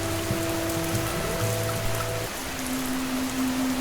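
Heavy rain pours in a continuous dense patter of drops, steady and fairly loud. Sustained tonal hums sit on top of it, one in the first half and a single lower tone later, and no one speaks.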